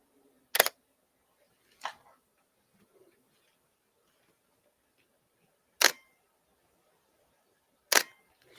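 An OM System OM-3 camera fires its shutter four times at uneven intervals, each a sharp, close mechanical click over near silence.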